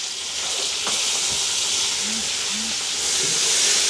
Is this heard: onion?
yes